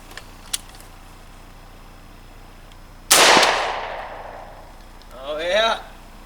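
A single loud blast from a Savage Stevens 301 .410 single-shot shotgun fired at a turkey target 50 yards away, sharp and decaying over about a second outdoors, then a short rustle and a faint voice.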